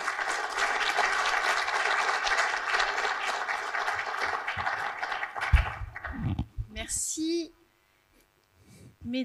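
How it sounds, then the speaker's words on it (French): Sustained applause from a crowd, dense and steady clapping for several seconds, then fading as the room quiets and a voice begins. "Sous vos applaudissements"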